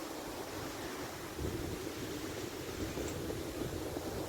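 Surf rolls and breaks continuously onto the Holderness coast shore in the UK, a steady frothy wash with wind buffeting the microphone.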